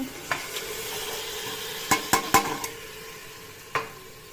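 Meat tossed into fried onions in a pressure cooker for kacchi biryani, with a soft sizzle and a burst of sharp stirring and scraping clatter midway, then one more scrape.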